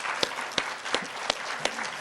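Audience applause for the chair at a conference session, a short stretch of steady clapping with a few sharper claps standing out.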